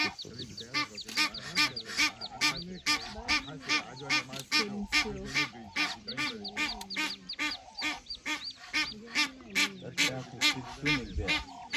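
Wild ducks in Tsavo East National Park, Kenya, quack and honk loudly and rapidly in a dense, overlapping flock chorus, close by and continuous throughout.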